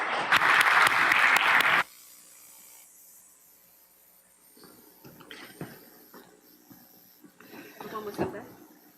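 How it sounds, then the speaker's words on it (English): Audience applause welcoming a speaker at a climate finance talk, a loud burst of clapping that ends abruptly after about two seconds, followed by quiet room noise and faint shuffling. "A round of applause, please."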